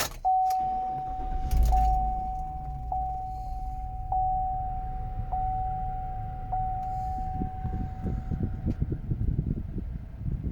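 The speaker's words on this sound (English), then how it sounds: "This vehicle is a key to start, so foot down on the brake." A red 2017 GMC Sierra 1500 SLT pickup started with a key: keys jingle, a steady chime sounds with several repeated beeps, then the engine's low rumble settles into a steady idle.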